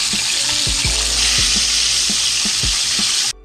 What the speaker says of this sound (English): it helps to clean up because, as you can see, the oil splashes all over